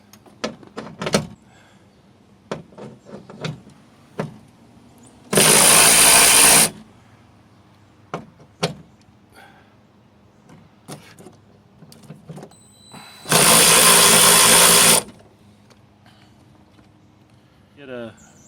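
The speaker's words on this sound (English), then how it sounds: "Then remove all these 10mm bolts." Removing 10mm bolts from a 2003 Nissan Altima door: two loud bursts of power-tool whirring, each about one to two seconds, separated by scattered clicks and knocks of handling the door panel.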